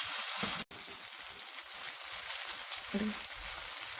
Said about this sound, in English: Now all the veggies got fried up well. To this, I'm adding the mint leaves.